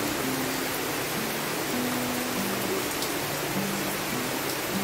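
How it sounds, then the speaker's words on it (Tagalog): Steady rain falls over forest cottages in Loboc, Bohol, a dense, even hiss that holds at a constant level the whole way through, with a faint low hum beneath it and no voices. "Grabe, pag-ulan pala dito, ang ganda. Very relaxing yung sounds."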